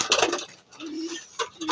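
Pigeons in a mini flyers loft give soft, close cooing calls in short bursts alongside light fluttering and movement sounds.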